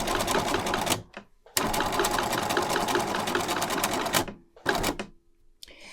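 Home sewing machine stitching a heart-shaped tooth fairy pillow, running in fast steady bursts, a long run, a pause, another run, then two short spurts, close and loud with no talk.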